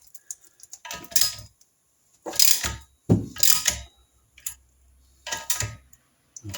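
Ratcheting clicks come in short, close bursts as conrod big end nuts are run down on a Triumph Trident T160 engine, separated by brief silences.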